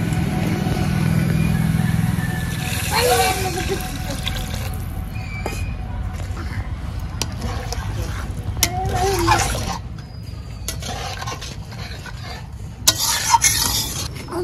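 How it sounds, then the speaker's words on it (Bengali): Water poured into a hot pan of frying paneer for palak paneer, giving a loud, steady sizzle with stirring and scraping that eases and continues more quietly, with a few sharp clatters near the end. "এবার দিয়ে দেব পরিমাণ মতো জল"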